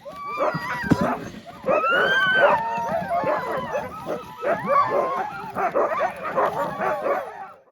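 Several sled dogs in Kiruna, Sweden, yelping, whining and barking excitedly in a busy overlapping chorus, close and loud, with eager yips throughout.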